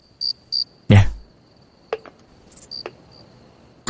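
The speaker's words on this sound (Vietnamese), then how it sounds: "Là con dế." A cricket kept as a plaything in a period drama setting chirps in short, clear bursts, a few spaced trills near and distinct, with a sudden loud knock and faint handling sounds between them.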